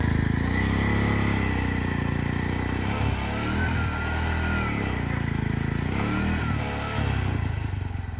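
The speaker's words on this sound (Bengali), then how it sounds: "আর টুকটুকের অত পাওয়ার ছিল না, মাত্র 350 সিসির টুকটুক এটা।" A 350cc tuk-tuk engine labours up a steep off-road hill, a loud, steady mid-pitched drone with revving surges and clattering running through all eight seconds, close and continuous.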